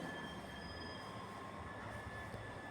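A departing train rumbles steadily with a faint high wheel squeal, a constant mechanical roar heard from inside or nearby.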